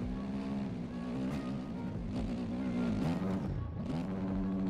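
A gas 450 dirt bike in the MX Bikes racing game revs steadily, its engine drone rising and falling with the throttle for several seconds, loud and close, with no voices over it.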